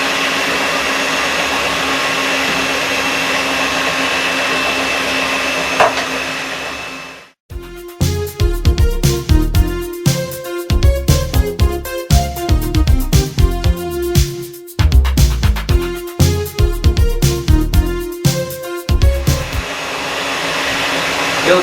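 An electric mixer whisks milk and flour for an omelette: a steady motor whine that cuts off, then a rhythmic stretch of loud clattering, rapid beats with a short break before they resume.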